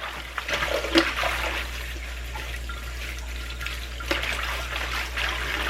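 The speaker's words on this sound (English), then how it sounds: "And then I'll let this water out." Water drains from a kitchen sink after greens have been washed in it, a steady gurgling trickle with a few louder splashy bursts, heard alone without talk.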